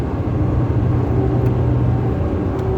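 A car driving along a road, heard from inside as a loud, steady low rumble and tire whir with a faint engine tone running throughout.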